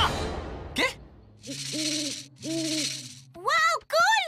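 An owl-shaped maraca gives two sustained hoots, each with a harmonic tone and a bright hiss, followed by rising warbling calls, heard alone in a cartoon scene.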